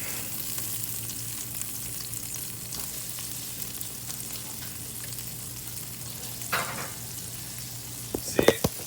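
A butter burger sizzles steadily on a hot griddle, with a low constant fry hiss throughout, then a spatula scrapes it up in a few sharp metallic scrapes near the end.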